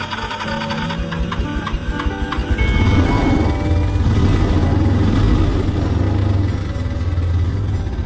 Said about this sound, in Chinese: 最後再給它接上電，看看發動機還能不能啟動